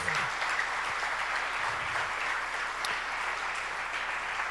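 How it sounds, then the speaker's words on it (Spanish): Church congregation applauding during a Spanish-language sermon, a steady wash of many hands clapping that holds evenly and moderately loud for the whole stretch, with no talk over it. "Dale un aplauso si quieres al Señor."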